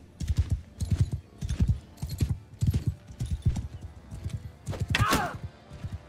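Horse hooves gallop in a steady rapid clip-clop rhythm during a Mount & Blade Bannerlord battle, loud and close, with a brief whinny near the end.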